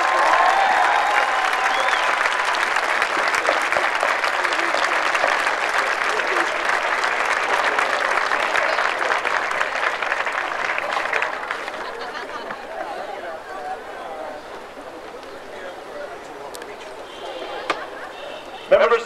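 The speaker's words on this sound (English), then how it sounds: "Give her a round of applause" A graduation audience applauds their former principal: loud sustained clapping from a large crowd, with scattered cheers, fading gradually toward the end as a voice returns.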